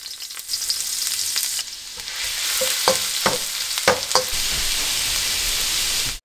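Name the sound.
ginger frying in oil over a low flame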